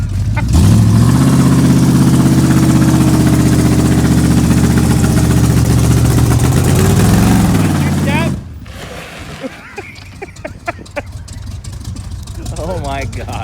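Dakota R/T pickup with a swapped 5.3 V8 holding a loud, steady high-rev roar for several seconds, then cutting off abruptly, followed by quieter idle, scattered clunks and people talking.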